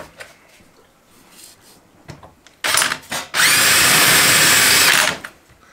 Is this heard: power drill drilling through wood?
yes